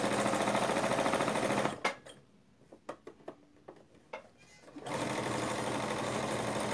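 A sewing machine stitches the seam of a doll's jumpsuit, running in a loud steady whir that stops for a few seconds of small clicks and handling noises, then starts up again at full speed.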